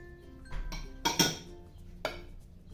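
Eggs, salt and yeast going into a blender jar: a few clinks and knocks against the jar, with a stronger clatter in the middle and one more knock near the end, in a quiet kitchen.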